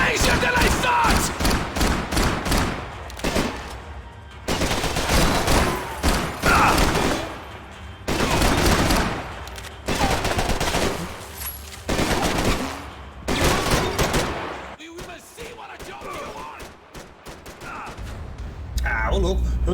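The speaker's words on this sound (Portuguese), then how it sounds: "Eu tá atirando no teto ali pra nada" Long bursts of automatic gunfire fired at a ceiling in the shooter game Max Payne 3, loud and close, broken by short pauses between volleys, with lighter scattered shots toward the end.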